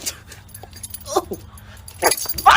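A dog whimpers and yips in short, high bursts between quieter moments, with jangling and louder rustling near the end; a person's voice is faint in the background.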